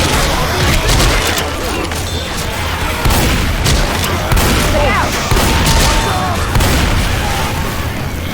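Combat shotgun fire in a zombie video game, heavy booming blasts recurring through a dense, loud mix of game effects and chaotic action noise.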